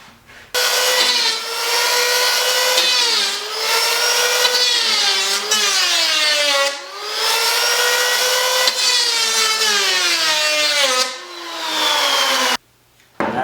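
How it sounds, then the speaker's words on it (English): A power planer trims the cedar gunwales of a cedar strip canoe near the bow. Its motor whines loudly and steadily for over ten seconds, the pitch dipping and recovering as the blade bites into the wood, then it briefly cuts out. "I'll just take my power planer and clean this up and bring it down to the 3/8 near the end of"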